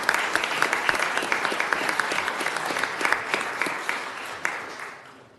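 Audience applause fills a city commission meeting chamber as an employee is honoured for 35 years as a golf course attendant. The clapping is steady and dense, then fades away near the end.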